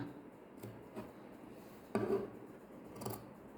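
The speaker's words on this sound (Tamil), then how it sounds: "ஒரு இன்ச்சில் நீங்கள் மார்க் பண்ணி எடுக்கிறத நேராக கட் பண்ணி எடுத்துக்குவோம் நாம்" Scissors cut straight through a fabric strip marked for a collar, making about four crisp snips at irregular intervals, close and fairly quiet, with no talk over them.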